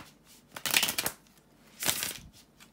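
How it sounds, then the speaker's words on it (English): Tarot cards being shuffled by hand in two crisp riffling bursts, close and clear with short pauses between, no talking. "bear with me a second, guys, to shuffle the tarot cards"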